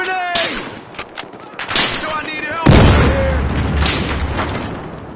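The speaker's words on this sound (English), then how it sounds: "Here comes a grenade!" Rapid gunfire bursts and a heavy grenade explosion in a video game, loud and close, with crackling shots followed by a booming blast that rumbles on.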